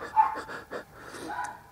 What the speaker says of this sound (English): Listen to that stupid dog just when I'm filming.